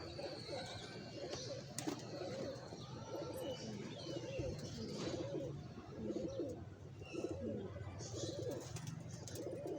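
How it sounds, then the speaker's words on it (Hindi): Racing pigeons coo softly and repeatedly in a low, rolling rhythm, with faint chirps and background hum around them. "बेहतरीन उड़ रहे हैं कबूतर।"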